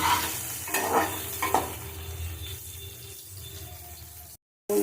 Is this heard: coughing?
no